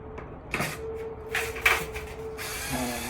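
Power driver backing a screw out of a clothes dryer during a drum baffle replacement, short whirring bursts and metallic clicks up close, with brief handling noises in between.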